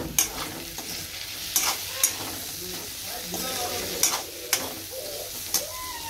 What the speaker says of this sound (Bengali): আর এদিকে আলু ভাজা হচ্ছে